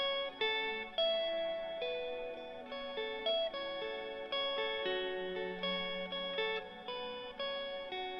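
An electric guitar plays through a shimmer reverb held by a Ventris reverb pedal: picked notes ring into sustained, layered harmonic tones that hang and overlap. It is quiet, clean and steady, with no talking.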